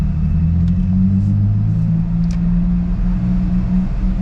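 A modified Infiniti G35 idles in a garage, its exhaust putting out a deep, steady low rumble with slight wavering in pitch, loud and close, with a couple of faint clicks above it.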